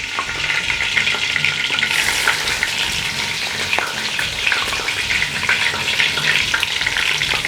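Grated onion frying in hot oil, giving a loud, dense, continuous sizzle with crackling bursts and occasional stirring scrapes close by.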